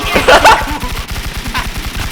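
Rapid automatic gunfire rattles in steady bursts in the shooter game Infestation, close and sharp, with a brief shout at the start.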